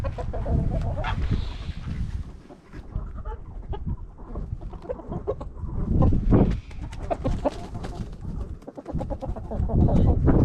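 Chickens on a farm clucking and murmuring steadily at close range as they peck over a piece of wood, with a few brief louder calls.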